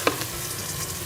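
Chicken karahi with chopped green chillies and fresh coriander being mixed in a pan, a brief stir with a soft clack near the start over a steady low sizzle.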